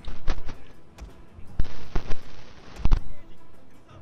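Gunfire in the video game Total War Shogun 2, Fall of the Samurai battle with Gatling guns: irregular sharp reports and bursts, some close and loud, others softer, mixed with a voice talking intermittently.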